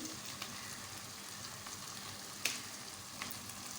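Chopped turai (ridge gourd) goes into tomatoes already softened and frying in a pan, giving a steady, even sizzle with a few brief clinks and taps over it.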